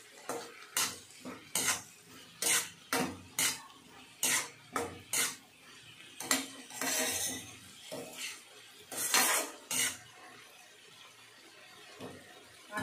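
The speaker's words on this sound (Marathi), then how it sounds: "आता हे छान परतून घेते।" Green tomato vegetable being stirred and sauteed in a pan with jaggery, heard as repeated close scrapes and clinks of a spoon against the pan in an uneven rhythm, with a soft frying hiss between strokes.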